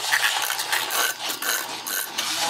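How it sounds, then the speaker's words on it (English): A small handheld milk frother whirs and churns through two tablespoons of half and half, giving a continuous close buzzing, slightly rough and fluctuating as the liquid thickens. "I'm going to use my little milk frother to get it frothy."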